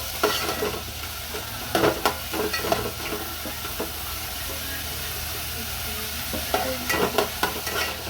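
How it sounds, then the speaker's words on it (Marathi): Chopped onion stirred and sautéed with a spoon in a pan for masale bhat, a constant close sizzle broken by repeated scraping clatters of the spoon against the pan. "असं चमच्याने छान असं परतून घेऊया आपण कांदा"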